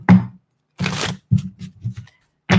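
Tarot cards being shuffled in several quick bursts, each a crisp riffling flutter close to the mic, separated by short silent pauses with no talk.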